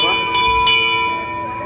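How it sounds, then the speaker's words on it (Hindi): A temple bell rings at a Hanuman shrine during Ram Navami puja in Baripada, with a sustained metallic ring and a couple of fresh strikes close by, while voices murmur underneath. "तो ये आगे घंटी बजे"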